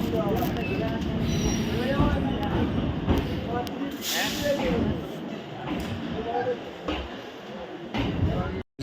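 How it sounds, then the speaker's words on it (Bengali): A local train on the Sealdah–Tarakeswar line rumbles and clatters steadily nearby, wheels squealing at times as it moves off, with people talking over the noise. "ট্রেন এবার ছাড়বে"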